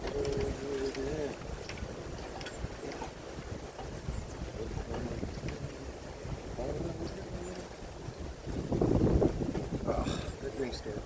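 Steady outdoor wind buffets the microphone throughout, a constant low rumble with a few stronger gusts near the end.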